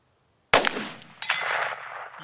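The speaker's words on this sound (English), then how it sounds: "I'm going to see if I can ring that steel with the pistol" An FK BRNO pistol fires once at a 10-inch steel target 165 yards away: one sharp, loud crack, followed by the faint, delayed ring of the distant steel.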